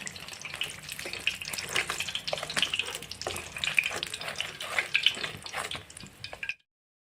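Rice flour chicken pitha frying in hot oil, a steady crackling sizzle with bright spattering pops throughout, close and moderately loud, then cutting off abruptly near the end.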